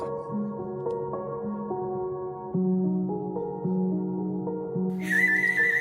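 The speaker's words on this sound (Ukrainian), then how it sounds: "Ось, наприклад, іграшка свищик." A traditional bird whistle toy (svyshchyk) plays a series of pure, stepped tones in a short melody, followed by a brighter, shriller trill at the end.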